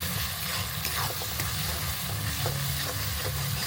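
Spices and a splash of water sizzle in a hot pan while being stirred for a village-style pork curry, a steady frying hiss with scraping stir strokes and soft bubbling, close up.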